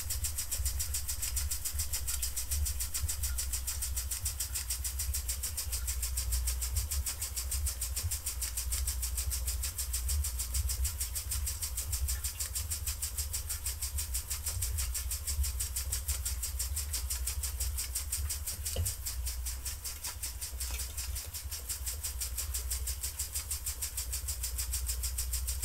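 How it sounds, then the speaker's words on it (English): An Empire B-43 oscillating piston toy steam engine runs with its accessories, giving a steady, continuous mechanical hum and rapid chuffing at an even level throughout, with no talking. "And steam engine is steaming."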